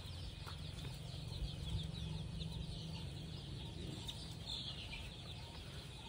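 A brood of about 300 one-month-old local chicken chicks peeps and clucks at close range as a continuous busy chorus, with scattered louder chirps over a low background murmur.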